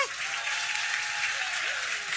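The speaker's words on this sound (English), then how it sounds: "please give them a huge round of applause" Audience applause at a live 100th-episode podcast celebration, a sustained, even roar of many hands clapping at steady loudness, with a faint whistle or cheer rising through it.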